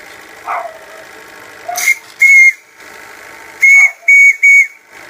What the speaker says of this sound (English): I've got the whistle working now